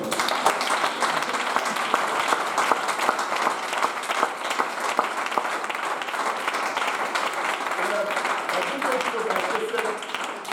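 A church congregation applauds to acclaim the Lord, a dense, steady wash of many hands clapping with crowd noise that carries on throughout, and a voice briefly rising over it near the end.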